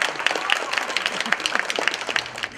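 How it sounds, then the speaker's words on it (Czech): Audience at a castle show in Sovinec applauds, a dense patter of many hands clapping steadily at moderate loudness, fading slightly at the end. "Tak to tleskáš!"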